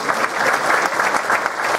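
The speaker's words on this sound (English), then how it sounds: "Let's have a big round of applause for our candidates" An audience at a Texas Lieutenant Governor candidates' forum in Denton County claps for the candidates, a dense, steady burst of crowd applause filling the brief moment.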